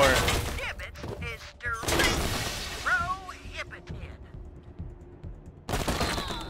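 Gunfire in the video game Wasteland 3 sounds in loud bursts and volleys, with a voice talking over and between the shots.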